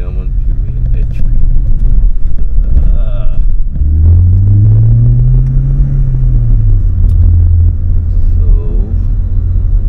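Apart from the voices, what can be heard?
Skoda Octavia RS245 accelerating with Revo Stage 2 map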